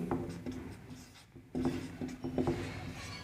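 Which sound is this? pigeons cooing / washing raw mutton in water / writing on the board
writing on the board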